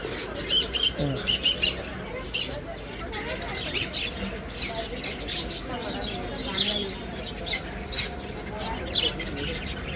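Birds chirp and squawk in quick repeated bursts, close and fairly loud, against a busy outdoor background.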